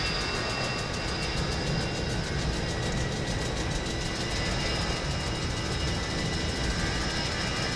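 A steady, loud roar of an airplane passing in Microsoft Flight Simulator 2024 fills the whole stretch as an unbroken broadband rumble with no voices over it.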